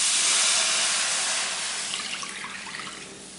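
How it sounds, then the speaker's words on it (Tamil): Milk pouring into a pan of roasted flattened rice for jaggery aval payasam, making a steady, loud, hissing splash right up close that slowly fades, with bubbling near the end and no voices. "இப்போ பால் ஊற்றிருக்கேங்க."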